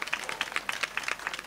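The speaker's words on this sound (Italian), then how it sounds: "un applauso grande ai più piccoli" Audience applause for a young girl singer at a Christmas event: steady, moderately close clapping from a small crowd, with rapid irregular claps continuing throughout.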